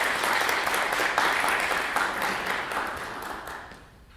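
Audience applause welcoming the guest speaker at an RSI Spaceport lecture on growing food on Mars, a steady full-room clapping that holds for about four seconds before thinning out.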